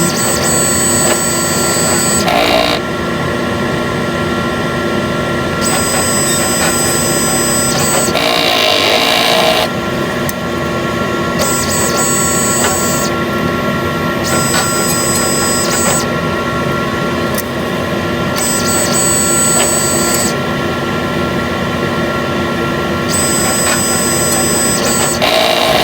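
A sublimation printer runs a print head cleaning cycle, a loud steady mechanical whir with repeated shifts in pitch as the head and pump work.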